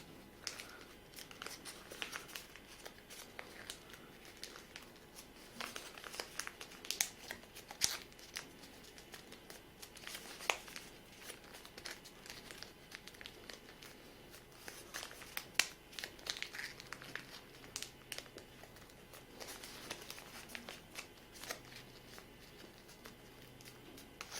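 Paper being folded for an origami spinning top, with quiet close crinkles, creases and soft rustles scattered irregularly over a faint background, no voices.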